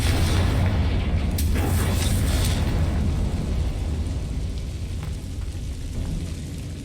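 A Confringo spell blast in the video game Hogwarts Legacy, a loud booming burst that rolls into a long rumbling decay, heard alone with no talking.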